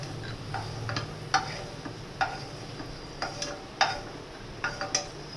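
Cashew nuts frying in a pan, a soft steady sizzle broken by scattered sharp ticks and pops as the nuts move against the metal, no talking.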